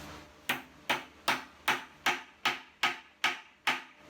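Nine sharp, evenly spaced hammer blows driving a T-nut into wood, close and crisp, each ringing briefly before the next strike.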